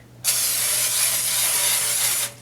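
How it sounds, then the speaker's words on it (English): Cooking spray hisses steadily from an aerosol can into a disposable baking tin, one continuous close burst of about two seconds with a clean start and stop, no talking. "Give this a nice little spray."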